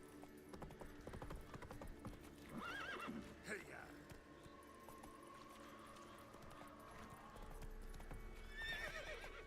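Roach the horse in The Witcher 3 game, hooves clip-clopping in a steady rhythm with a brief neigh, game sounds and a voice talking over it.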